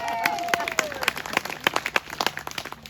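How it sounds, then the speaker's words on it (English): Audience applause at an outdoor rally, a scattered patter of clapping hands that thins into sparse individual claps, with a voice briefly heard at the start. "He deserves a round of applause."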